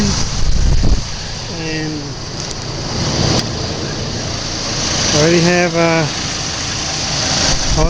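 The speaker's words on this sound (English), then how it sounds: "got the engine running" A Chevy Colorado engine idling after a transmission fluid and filter change, a steady mid-pitched rumble heard close throughout while someone speaks over it.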